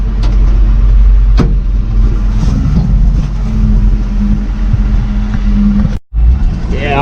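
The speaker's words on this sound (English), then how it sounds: "Yeah, I'll get this truck pulled around," Farm truck engine running on a hot day around oat raking and a soybean bin, a loud, steady low rumble with a deep drone, briefly cutting out near the end, then resuming.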